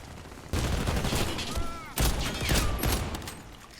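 Gunfire in the Warface video game during a bank robbery mission: rapid bursts of automatic shots crackle in two sustained volleys, fairly loud and close, with a faint voice underneath.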